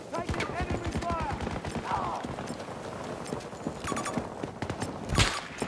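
Rapid bursts of video game gunfire crackle in quick, uneven volleys, fairly faint and layered under someone talking.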